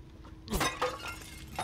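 A ceramic vase shatters in the castle of the video game Resident Evil Village: one sudden, sharp crash with a scatter of breaking pieces, then a short tail of faint debris ticks over quiet room tone.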